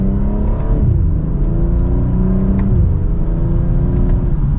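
A 2025 BMW M240i sDrive in stock form pulls hard from second gear, its exhaust a loud, steady, smooth drone that rises through the rev range, heard close from inside the car with no talking.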